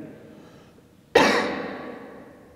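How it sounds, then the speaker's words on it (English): A single sharp cough bursts out loud and close after a quiet stretch of faint room noise, then trails off, inside the reformatory at Mansfield. "Cough again. Do that again."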